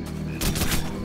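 Burst of gunfire in Call of Duty 4: Modern Warfare, a loud volley of overlapping shots erupting after a short pause and rolling on for under a second, alone with no talk.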